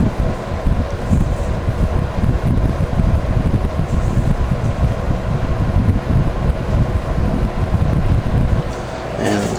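A Vornado PVH whole room heater running on high produces a loud, steady rushing fan roar close to the microphone, unbroken for the whole stretch with a slight change near the end.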